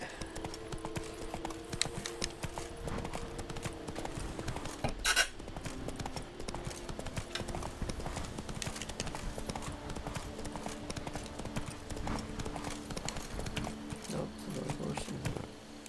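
Roach, Geralt's horse in the video game The Witcher 3: Blood and Wine, gallops with a steady, close clip-clop of hooves throughout, under quiet game ambience with a brief sharp noise near the middle.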